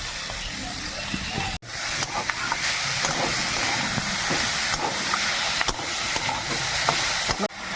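Bitter gourd and greens drop into hot oil and fry with a loud, steady hiss and sizzle, broken by sharp clatters and brief scraping stirs close by.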